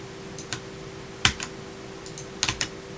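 Keys on a computer keyboard tapped in short bursts, a couple of single clicks and then a quick cluster, crisp and close against a faint steady hum, with no voice.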